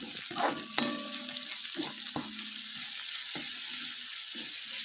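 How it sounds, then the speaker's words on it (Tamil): Onions and seasonings sautéing in a pan for a thagarai greens stir-fry, a steady hiss of frying with a few sharp spoon scrapes and clinks against the pan. "இப்போ நல்லா வதங்கி நல்ல ஒரு ஸ்மெல் வருது நல்லா வதங்கட்டும்"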